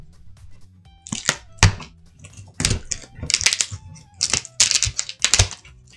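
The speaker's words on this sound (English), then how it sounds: "Let's go ahead and see if we can figure out how to tear into this thing." Cardboard eBay shipping box being torn open by hand, a series of sharp rips, cracks and crinkles in irregular bursts with quiet gaps between, close to the listener and without talk.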